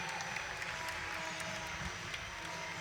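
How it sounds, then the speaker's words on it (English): Spectators at a men's basketball championship final applaud a player getting back on his feet, a continuous crowd clapping heard from a distance under arena ambience, fairly faint and even. "a round of applause as Dominique Campbell is making his way back onto his feet"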